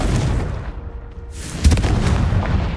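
Confringo fire-blast spell from Hogwarts Legacy: a sudden booming burst after a brief lull, then a rumbling, crackling aftermath under continuous game ambience.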